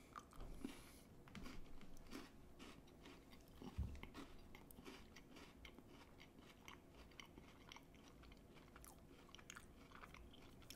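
Someone bites and chews a green tea Kit-Kat wafer bar up close, with a steady run of crisp crunches and wet chewing, quiet but intimate, and no talk.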